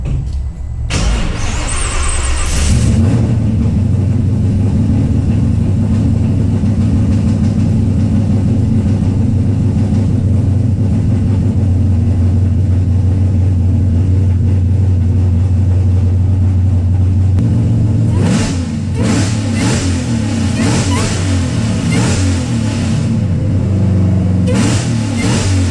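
A Ford Coyote V8 in a drift car idles loudly and steadily at close range after a short burst of noise at the start, then revs near the end.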